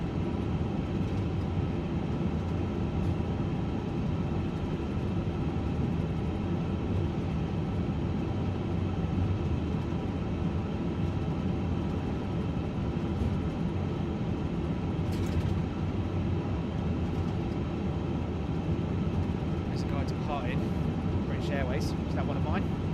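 An airliner on its takeoff run for a Hong Kong to Heathrow flight, heard from inside the cabin: a steady, loud engine roar and airframe rumble that holds throughout, with talk over it.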